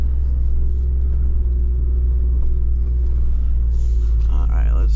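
A Jeep Wrangler Rubicon 392 crawling in first gear over a wet, rocky trail in the rain: a loud, steady low engine rumble from inside the cabin, with a voice talking over it.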